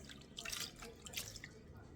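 Soy sauce and calamansi marinade poured onto raw pork for Filipino pork afritada, giving a faint, soft trickle and patter of liquid over about two seconds with no talking.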